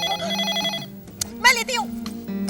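A telephone rings indoors with a repeating electronic trill up close, cutting off partway through as a person starts talking.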